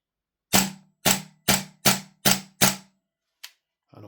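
A Vorsk VMP-2 gas blowback airsoft rifle fires six sharp, loud semi-auto shots at an even pace of about two per second, each with a snappy bolt clack, followed by a couple of faint mechanical clicks.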